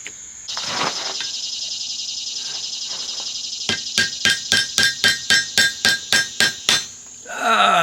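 Metal being hammered into coat rack hooks: about a dozen evenly spaced, ringing hammer blows in a steady run, following a long stretch of continuous roaring fire noise, all close and loud.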